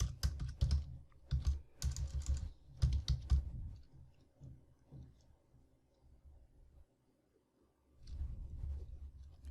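Quiet clicking of keys on a computer keyboard as code is typed, in quick bursts of taps separated by pauses, close and soft with no voices.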